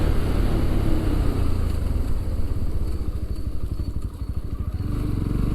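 A motorcycle rides along a road on the way toward Gingee fort, its engine droning steadily under rushing wind noise, close and continuous.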